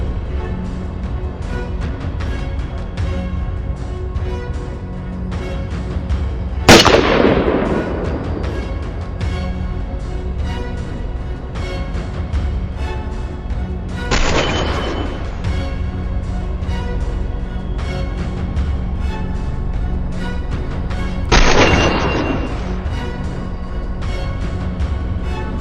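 Three sharp gunshots ring out during a winter wild boar hunt, spaced about seven seconds apart, each a loud crack with a short echoing tail over a steady background.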